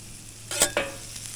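Shrimp stir fry is mixed on a Traeger Flatrock griddle: two quick metal spatula scrapes cut through a faint steady sizzle, close and brief.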